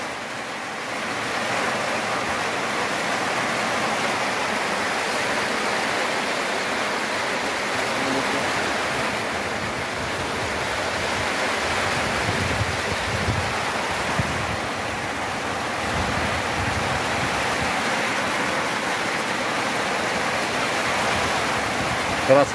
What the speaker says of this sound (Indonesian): Keras sekali hujannya, teman-teman.